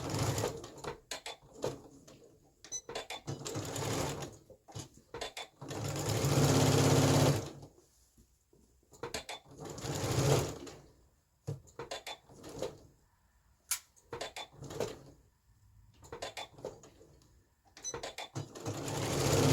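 Sewing machine stitching culottes fabric from a Simplicity 3961 pattern, running in repeated bursts of steady motor whir, some long and loud, separated by short pauses and clicks; no talking.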